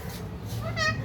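A cat meows once near the end, a short tonal cry rising above steady low background noise.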